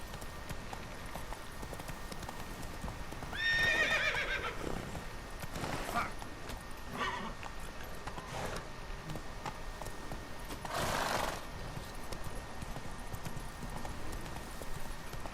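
Roach, the horse in The Witcher 3, gallops and neighs: a soft, distant clip-clop of hooves runs throughout, with a clear whinny early on and a few fainter snorts and knocks later.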